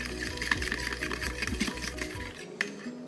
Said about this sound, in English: And then you're just gonna whisk that together.